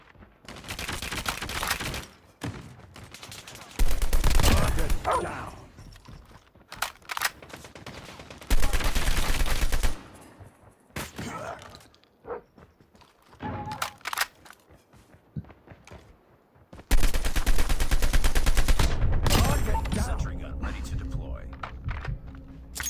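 ASM10 assault rifle fire in Call of Duty Mobile, with several loud bursts of rapid automatic shots separated by quieter gaps where a person talks.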